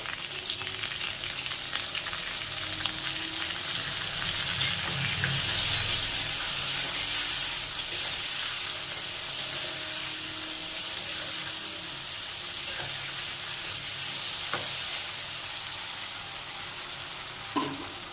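Eggplant pieces with a little turmeric fry in a pan as a steady, close sizzle runs throughout, with a few faint clinks and no talking.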